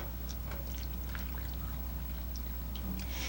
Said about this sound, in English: Now I'm going to take the milk and pour it into the sugar and the flour